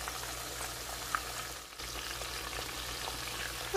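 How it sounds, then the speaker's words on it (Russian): Steady crackling sizzle of meat frying in hot oil, continuous and close, with a brief dip midway and a light clink near the end. "Будем жарить следующие по две штуки."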